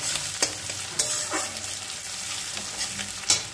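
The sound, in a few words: chopped onion frying and being stirred in a pan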